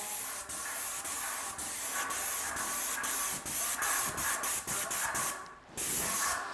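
Bursts of loud hissing spray from an airless paint sprayer painting a staircase, repeated in short on-off pulses with brief gaps, close by and without talk.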